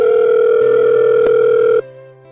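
A steady telephone dial tone hums loudly for almost two seconds, then cuts off abruptly, leaving only a faint low residue.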